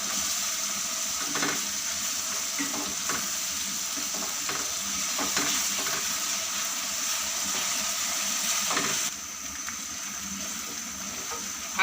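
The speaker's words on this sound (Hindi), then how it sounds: "1 टेबलस्पून अदरक लहसुन और 2 से 3 हरी मिर्चें लेकर पेस्ट बना ली और इसको फ्राई करेंगे हम 2 से 3 मिनट तक" Ginger garlic paste and green chillies fry in a pan for bhindi gosht, giving a steady, close sizzle with occasional scraping stirs and no talking.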